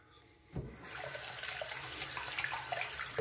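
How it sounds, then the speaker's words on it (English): Steady running water rinsing out a sink, a faucet stream that starts abruptly after a brief pause and then flows continuously at a moderate, close level. "I'm going to rinse out the sink"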